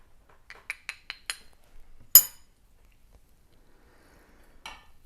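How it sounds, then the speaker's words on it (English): A spoon clinks against a coffee cup in a quiet room: a quick run of five light taps, a sharper louder clink, then one faint final tap after a pause. "Got a spoon here. Let's mix it on up."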